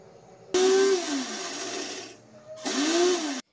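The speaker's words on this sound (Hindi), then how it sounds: "मेथी दाना सौंफ ठंडा हो गया है अब इसे मिक्सर जार में डाल के पीस लें" A kitchen mixer grinder grinds roasted fennel and fenugreek seeds in its jar, two loud whirring bursts that spin up and stop sharply, with a short pause between them.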